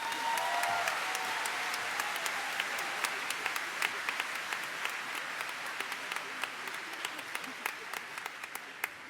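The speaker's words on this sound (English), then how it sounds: "Can we all give them a round of applause?" An audience at a vocational high school graduation ceremony gives sustained applause, a dense wash of clapping with sharper individual claps standing out as it slowly fades.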